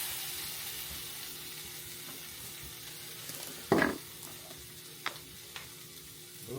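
Jucy Lucy burger sizzling and frying on a hot griddle, a steady hiss throughout with a few sharp scrapes and taps of a spatula, close up and without talk.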